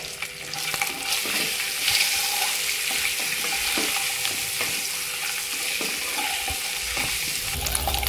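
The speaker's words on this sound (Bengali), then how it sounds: "তেল গরম হয়ে গেছে, ডিমগুলো কড়ার মধ্যে দিয়ে দিলাম।" Continuous crackling sizzle of eggs frying in hot oil in a wok, with repeated scraping strokes of a utensil stirring in the pan.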